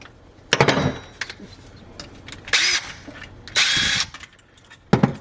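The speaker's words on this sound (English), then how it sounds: "So loosen this clamp." A clamp is loosened during a garbage disposal replacement, giving several short, close mechanical rasping bursts separated by quieter pauses.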